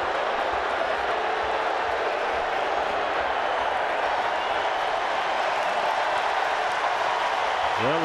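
A big baseball stadium crowd at an MLB game roars and cheers steadily over a brawl, a dense wash of voices and clapping that stays loud and even throughout.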